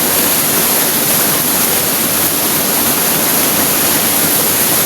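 Steady, loud rushing roar of a countryside waterfall, a dense broadband wash of falling water that holds constant from start to finish with no voices over it.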